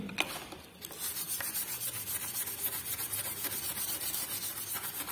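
A copper-clad PCB is scrubbed rough before etching, making a fast, rhythmic rasping rub of close, repeated strokes after a brief pause at the start.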